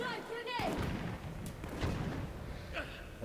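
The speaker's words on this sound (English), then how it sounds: "And shoot these mines." Gunfire from the video game Resident Evil ORC as mines are shot, a few heavy booming shots and thuds mixed with game sounds, with someone talking over the action.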